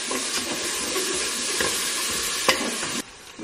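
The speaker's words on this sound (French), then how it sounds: "on va faire revenir l'oignon avec l'ail" Chopped onion and garlic sizzle steadily in a pan, a dense continuous frying hiss with a few sharper scrapes of stirring, dropping slightly quieter near the end.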